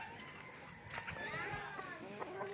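Turkeys call and gobble faintly amid farmyard noise, a few short rising calls overlapping, with a soft voice briefly in the background.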